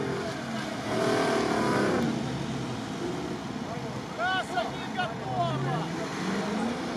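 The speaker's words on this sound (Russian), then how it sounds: "Так, Патрол пошел." A Nissan Patrol setting off on a timed off-road run over sand, its engine droning and surging at moderate distance while voices talk over it.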